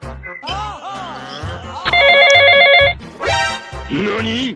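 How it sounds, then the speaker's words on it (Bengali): A telephone rings with a loud, close electronic ringtone: a melodic run of bright, warbling tones followed by sustained buzzing chimes, repeating in short bursts with no talk over it. "কে ফোন করছে রে?"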